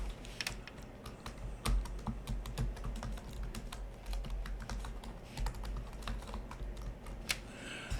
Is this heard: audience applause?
no